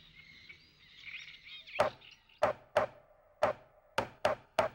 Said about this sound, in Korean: 까막딱따구리의 짝짓기 계절이 돌아왔다.